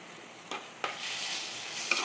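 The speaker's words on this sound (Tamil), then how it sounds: "ஒரு 3 நிமிஷம் அந்த தக்காளி வதங்க நல்லா வதக்கிக்கலாம்" Tomatoes sauté quietly in a pan for a spicy fish curry, a soft sizzle punctuated by a few sharp spatula scrapes and taps, with no talking.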